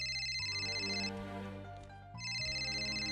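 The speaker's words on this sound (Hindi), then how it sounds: "ये पक्का त्रिपुरा का ही फोन होगा।" A telephone ringtone rings in a Hindi-dubbed South Indian romantic action film scene: a steady, bright electronic melody that briefly drops out in the middle and then resumes at full strength, with no talking.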